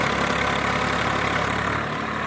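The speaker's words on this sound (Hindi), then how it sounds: "ट्रैक्टर यहाँ पहुँच रहे हैं माशी से।" A tractor engine idles near a farm field where fields are being ploughed, a steady mid-to-low rumble running loud and unbroken throughout, with no voices.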